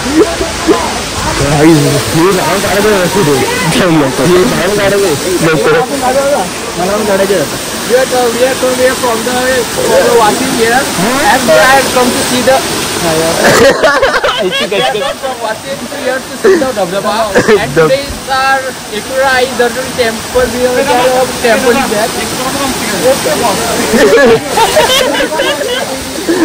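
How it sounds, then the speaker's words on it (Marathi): Steady broadband rush of falling water at a waterfall near Ekvira fills the scene, with people talking and a busy crowd murmuring throughout. "पाणी धबा धबा पडतो म्हणून त्याला बोलतात धबा धबा"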